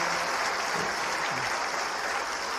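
Audience at an award ceremony applauding steadily, a dense wash of clapping filling the room from start to finish with no voices over it.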